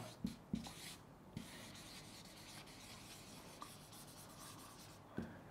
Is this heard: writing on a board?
yes